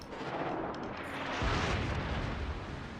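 Heavy gunfire from a Des Moines cruiser in a naval video game: a dense, rumbling roar of broadband noise that swells into a deeper boom partway through and stays loud to the end.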